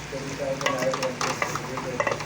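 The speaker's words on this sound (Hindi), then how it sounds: "अब इसको भूनेंगे। घी डाल दिया मैंने बीच में।" Chana rice frying in ghee in a pan while being stirred, giving a close, steady sizzle broken by scraping stir strokes, with no talking.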